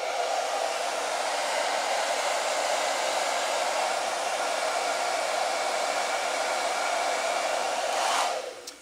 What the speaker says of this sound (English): the blow dryer starts slowly pushing it down